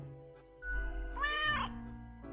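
A cartoonish cat meow from the video game Death and Taxes, a single short, clear, rising call sounding alone at low volume over a soft musical background.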